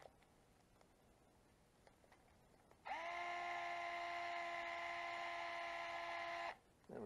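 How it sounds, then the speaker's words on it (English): An electric screwdriver drives a long screw, a steady high whine that holds for several seconds and then stops, after quiet handling clicks. "So that's why the electric driver is handy to have."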